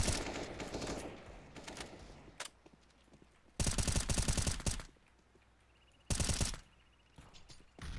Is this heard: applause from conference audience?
no